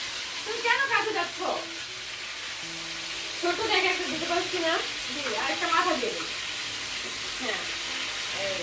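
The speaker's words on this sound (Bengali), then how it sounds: "দেখো মাছ কীভাবে ভাজা হয় সেটাই তোমাদেরকে দেখানো হচ্ছে" Fish frying in a pan makes a constant hissing sizzle in the background while people talk over it in several bursts.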